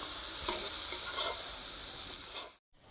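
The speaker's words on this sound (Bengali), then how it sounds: "এবার এই মশলার পেস্টটা ওখানে দিয়ে দেব। ভালো করে কষিয়ে নেব।" Spice paste sizzling as it is sautéed with potatoes, pointed gourd and paneer, a steady bright hiss with a few light stirring clicks before it cuts off abruptly.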